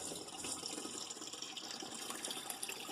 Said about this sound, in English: It's just a sailboat foot pump and 2 tubes, one going to a water tank and one to a faucet.